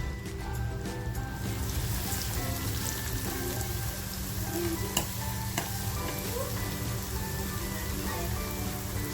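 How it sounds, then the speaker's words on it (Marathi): Garlic sizzles steadily in hot oil in a pan on a gas stove, a continuous dense crackle with occasional stirring scrapes and a couple of sharp clicks, close and moderately loud, no voices. "तेल छान तापलं ना की जी लसूण घेतली आहे ती लसूण टाकते बघा"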